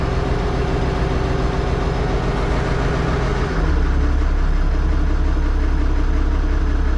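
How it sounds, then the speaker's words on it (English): Older farm tractor engine idles with a steady, loud mechanical drone that drops to a deeper, heavier rumble partway through as the RPM changes. "It runs nice, this tractor."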